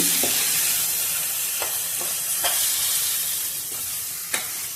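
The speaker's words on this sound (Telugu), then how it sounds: "మామిడికాయ వేసుకున్న తర్వాత ఇదంతా మొత్తం అయితే బాగా అయితే ఇలా కలుపుకోవాలి" Mango pieces for homemade chutney stirred in a frying pan over low flame, with a steady sizzle and a few scraping strokes of the spoon against the pan, close and alone.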